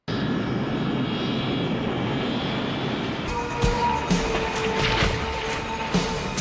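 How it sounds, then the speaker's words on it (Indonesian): A fixed-wing airplane taking off roars with a loud, steady engine drone that shifts abruptly partway through into a rougher, louder rumble with crashing impacts. "karena pesawat telah lepas landas"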